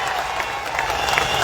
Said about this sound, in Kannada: ಜೋರಾದ ಚಪ್ಪಾಳೆ ಮೂಲಕ ಸ್ವಾಗತ ಮಾಡಿಕೊಡ್ರಿ